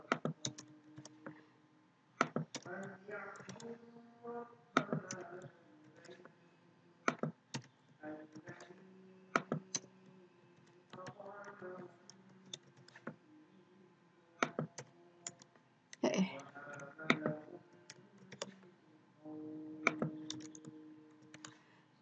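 Computer keyboard typing while coding jQuery JavaScript, with irregular bursts of close, crisp key clicks and pauses between runs of keystrokes. A faint tonal hum sits underneath, and nobody speaks.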